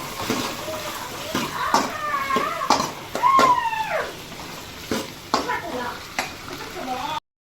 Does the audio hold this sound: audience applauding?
no